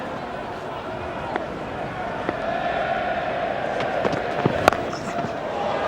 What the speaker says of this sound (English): there's a lot of oohs and ahs from the crowd